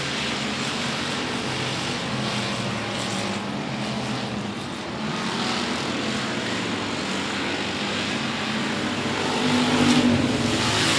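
Race cars roaring around an oval speedway during a regular race program at 105 Speedway, a steady continuous engine drone that swells louder near the end as the pack passes close.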